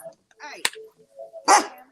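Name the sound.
dogs barking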